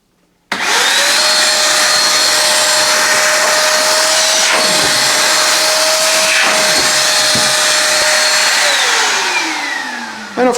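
A Parkside PASA 1200 B2 chip and dust extractor starts up and runs with a loud, steady motor whine and airflow roar for about eight seconds, then is switched off and winds down with a falling pitch.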